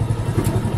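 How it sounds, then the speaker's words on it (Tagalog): A motorcycle engine rumbles close by on a narrow road with a low, pulsing drone, steady and fairly loud throughout. "Oh, may motor pa."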